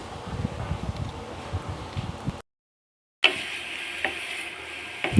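Snake gourd pieces being stirred and frying in a pan, a steady crackling sizzle with scraping stir strokes, broken by a brief gap of silence before the frying resumes.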